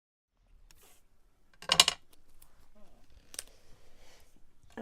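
Scissors cutting through paper for a planner, a few short crisp snips with a louder burst near the middle and another toward the end, close up, with faint light handling noises in between and no talking.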